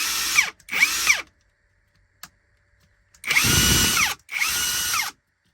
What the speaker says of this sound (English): I'm gonna let you guys hear the motor run.